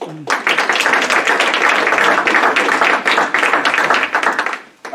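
An audience at a conference talk breaks into loud applause to welcome a speaker, a sudden burst of many hands that holds strong and dense before tapering off at the end.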